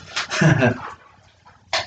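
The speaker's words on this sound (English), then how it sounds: "With or without the noise of dogs barking." A dog gives a few short, close barks and whimpers, separated by brief pauses.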